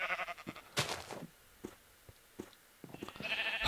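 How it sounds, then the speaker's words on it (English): Sheep bleat several times in a Minecraft modpack game, with short wavering cries spaced apart over light thumps and faint background noise. "The sheep are like, save us! We've been stuck in here all day."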